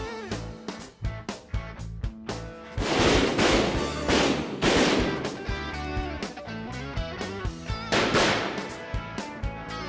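Several sharp gunshot blasts ring out during a hunt in Arkansas, loud and close, spaced irregularly with a couple of clustered heavier bursts amid busy outdoor background noise.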